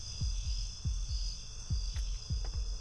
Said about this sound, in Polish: zazwyczaj to bicie serca oznacza, że jesteśmy w sporym niebezpieczeństwie